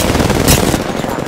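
A loud, brief burst of gunfire in the Apex Legends battle royale game, a few close shots run together in just over a second, with no talk over it.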